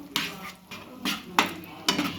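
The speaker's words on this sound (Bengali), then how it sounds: "একটু নেড়ে দিলাম" A spoon knocks against a pot while tadka curry with fried eggs is stirred, giving four separate clanks and scrapes spaced unevenly, fairly soft and close by.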